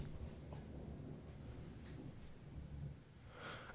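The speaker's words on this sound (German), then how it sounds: "Es gewittert draussen" A thunderstorm is moving in outside, with low, distant thunder rumbling faintly and steadily and no one speaking.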